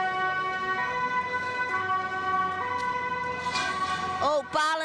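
A police car siren blares during a street clash in Amsterdam, loud and sustained with steady wailing tones that hold for several seconds and then waver briefly near the end.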